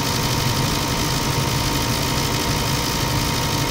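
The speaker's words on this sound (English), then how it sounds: "the furnace will run for about 3 to 4 minutes with the blowers" A Tarnow gas furnace runs with its blowers going and burners lit, giving a steady, dense rushing hum at constant loudness throughout, with no speech.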